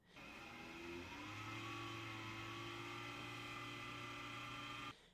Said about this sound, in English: This fan isn't just spinning up to max, its bearing is completely destroyed.